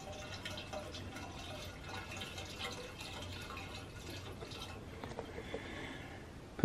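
Howes Diesel Treat is poured into a tractor's fuel tank, giving a steady, fairly quiet liquid trickle and gurgle that runs on for several seconds without a break.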